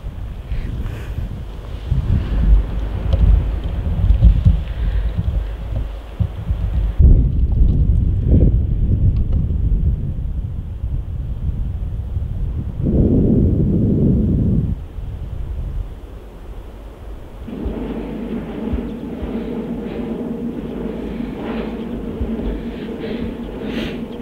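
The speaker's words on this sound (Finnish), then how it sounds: "Jos taustalta on välillä kuulunut tämmöstä kohinaa, niin se lähtee noista tuulimyllyistä." Wind turbines on Olostunturi fell in Lapland in autumn give a steady broadband whoosh, mixed with strong wind buffeting the microphone and a low droning hum that becomes more prominent near the end.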